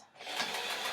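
A sewing machine runs steadily for about a second while stitching dress fabric, its motor humming evenly and up close with a slight rise as it starts.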